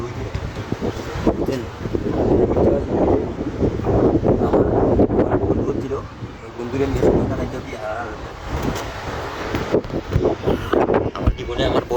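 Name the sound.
strong wind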